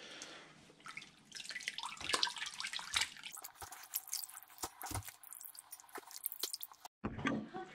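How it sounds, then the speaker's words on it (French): Fresh clear water poured into a container to soak sausage casings, with dripping, splashing and squishy handling sounds close by, ending with a brief pause and a final splash. "on va déjà rechanger d'eau tout de suite"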